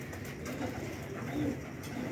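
Faint, low cooing from domestic pigeon pairs, soft rolling calls recurring a few times over a steady background murmur, heard at a moderate distance.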